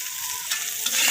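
Greens of spinach, bottle gourd leaves and cabbage fry in oil with ginger paste and salt, a dense, close sizzle with a soft stir or two during the brief moment.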